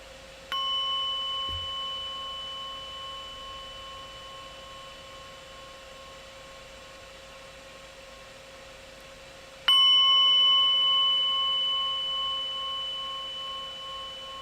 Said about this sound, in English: I'll ring the bell and then we'll sit for 20 minutes.